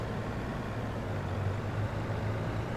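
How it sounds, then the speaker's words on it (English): A laboring truck engine in Farming Simulator 22 hauls a heavy load of silage up a hill, giving off a steady low drone with no breaks or rises, heard alone. "Come on, truck, pull the hill."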